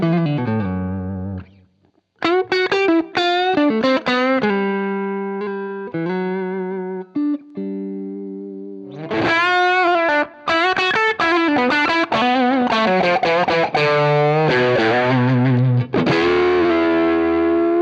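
Electric guitar played through a Tube Screamer overdrive pedal, a driven, distorted tone with sustained chords and single notes, short pauses between phrases, loud and close with no talk.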